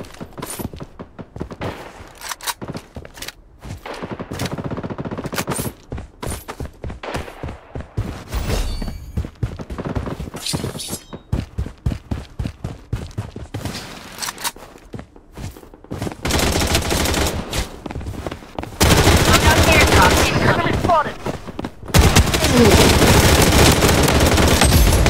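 Dense gunfire from the video game Bloodstrike on the Shutter Island map, with an M700 loadout: rapid bursts and volleys of shots in uneven clusters, growing louder and more continuous toward the end, with occasional thuds between.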